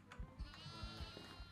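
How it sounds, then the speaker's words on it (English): A goat bleats in the horror game Devour, several short wavering cries in a quick irregular series, faint and close, with low thumps underneath. "There's two goats up here."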